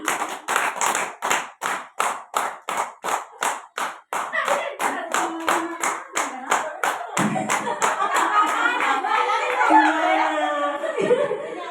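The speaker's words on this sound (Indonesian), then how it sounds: "Tepuk lima kali." A class of students claps in unison, a long run of steady rhythmic claps that grows looser and blends into chatter and laughter as the group keeps clapping, with voices talking throughout the latter half.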